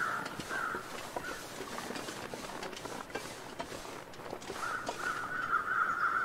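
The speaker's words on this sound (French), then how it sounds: "Les corbeaux me fichent les jetons." Crows caw in the survival video game The Long Dark, harsh repeated calls in two clusters at the start and end over a low ambient wind, fairly distant and faint.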